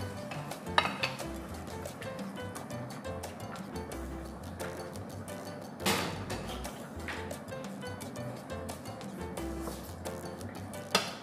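Tomatoes going into a pan of shrimp pasta, with scattered clinks and scrapes of utensils against cookware over a steady low cooking sizzle, a sharp clatter near the middle.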